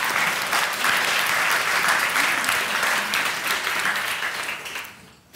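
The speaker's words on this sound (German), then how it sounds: "Auch Ihnen einen kleinen Applaus, würde ich meinen." An audience at a taz talk event applauds loudly and steadily for several seconds, a dense wash of many hands that thins and fades out at the end.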